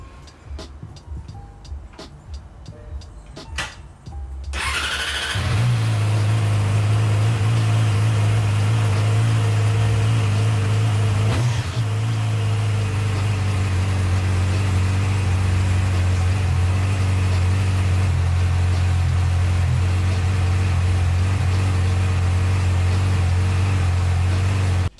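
A 2020 Yamaha R6 motorcycle, stolen and being rebuilt, cranks over briefly, then catches and settles into a loud, steady idle that runs on without a break.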